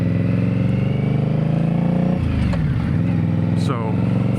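An Indian Scout motorcycle engine runs loud and close with a deep, throbbing exhaust note, then revs up and drops back in a quick swell midway, with a person talking over it.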